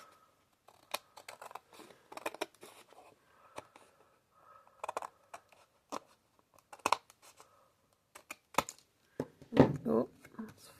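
Scissors cut through box material while a cardboard box is being repurposed and decorated, giving a few close, uneven snips and crunches scattered among quiet handling noises.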